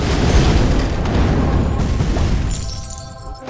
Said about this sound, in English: I take about half of this guy's health with my barrage of fireballs